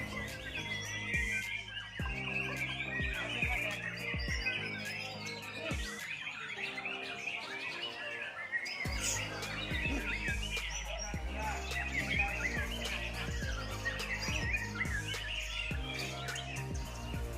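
A white-rumped shama (murai batu) sings close and loud in a long run of varied chirps, whistles and trills, phrases repeating with brief pauses, and no speech over it.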